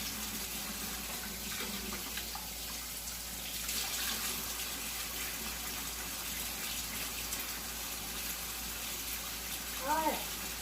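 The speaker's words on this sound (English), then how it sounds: "Just wash my arm here." A tap runs steadily while someone washes an arm, the water a continuous broadband hiss with a slight surge midway and a brief vocal sound near the end.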